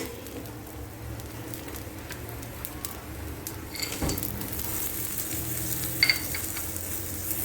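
Rice frying with pepper and onion in a pan gives a continuous soft sizzle, with a few stirring scrapes and a brief clatter near the end as peas go in.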